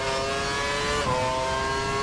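A Formula 1 car engine in F1 2012 screams at high revs with a steady, tonal whine that dips briefly and climbs again as it pulls away, loud and close, with faint tire noise beneath.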